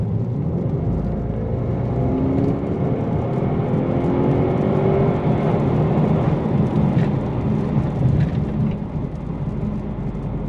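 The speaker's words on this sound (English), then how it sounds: "All right, so I'm gonna do kind of a wide open throttle here." A turbocharged car accelerates hard at wide open throttle, its engine droning loud and steady with a rising whir from inside the cabin for the full stretch.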